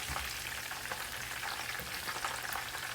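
Chicken pakora frying in hot oil, a steady, dense crackling sizzle that holds evenly close by for the whole stretch, with no talking.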